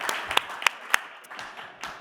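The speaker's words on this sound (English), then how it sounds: "Westbrook Public Schools in Connecticut. Let's give them a round of applause." Scattered, fairly faint clapping from an audience at an education showcase for Westbrook Public Schools in Connecticut, a few sharp individual claps standing out from a thin patter.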